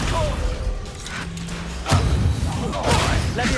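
Descendo spell slamming an enemy to the ground in Hogwarts Legacy combat, a heavy thud and crash with a whoosh, followed by further impact rumbles amid game effects, with a player's voice speaking intermittently.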